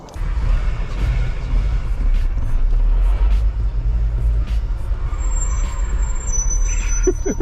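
A Jeep engine rumbles steadily up close, a deep continuous drone with faint mechanical clicks and hiss over it.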